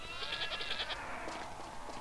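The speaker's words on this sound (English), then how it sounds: "I wonder if I'm gonna be able to see Gad the Goat because he didn't want to show up before." Goat bleating in the video game Zoo Race, a short wavering cry that trembles for about a second, fairly faint over a steady background bed, with no talking.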